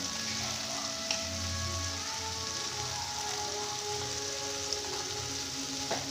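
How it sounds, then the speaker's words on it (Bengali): A spice paste with salt and turmeric frying in a pan, giving a continuous rain-like sizzle and spatter with a low hum underneath, no talking. "এবার মশলাটাকে ভালো করে কষিয়ে নেব যতক্ষণ না মশলা থেকে তেল বেরোবে।"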